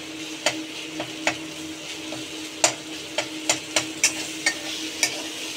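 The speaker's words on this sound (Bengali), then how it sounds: "এটা আমি মোটামুটি কষিয়ে নিয়েছি, টমেটোগুলোকে গলিয়ে নিয়েছি।" Tomatoes and masala sauté in a pan as a utensil scrapes and taps in a steady, uneven rhythm over a soft continuous frying sizzle, close and alone.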